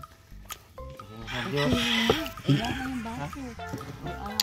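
A chicken clucks in a series of short, uneven calls close by while a person talks over them at the same time.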